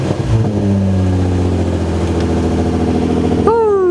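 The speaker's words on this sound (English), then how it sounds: "Let's rev it." A car engine fitted with a Y-pipe exhaust revs loudly and close by, holding a steady throaty drone that climbs sharply in a rev near the end.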